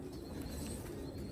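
A Salara teddy pigeon coos in a low, steady, continuous murmur, close and moderately loud, with no other sounds around it.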